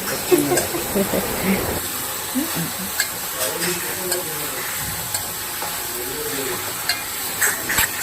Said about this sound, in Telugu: అందుకే బాగా కలుపుతూ మగ్గించుకోవాలి.